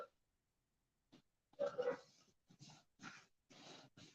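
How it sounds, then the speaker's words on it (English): Dogs bark at a mailman in a short series of sharp, fairly faint bursts, a couple of isolated barks followed by a quicker run of four or five, with near silence in between. "Oh my goodness, they are really barking."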